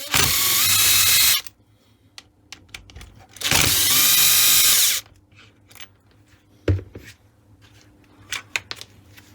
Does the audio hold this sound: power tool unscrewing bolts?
yes